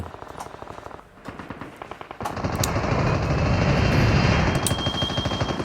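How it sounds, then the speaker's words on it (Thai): Rapid bursts of automatic gunfire in a video game, loud and sustained, rattling continuously with a dense roar building in the middle. "มีเสียงปืนอยู่ ทางด้านนี้"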